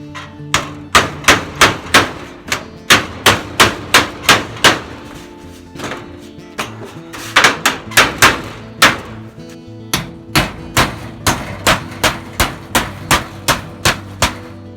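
Hammer blows drive nails through the metal cap of a steep, high tin roof on a sugar shack into the rafters beneath, sharp ringing strikes landing in quick rhythmic bursts with short pauses between runs, close and loud.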